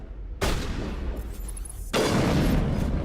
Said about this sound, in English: that guy with his shotgun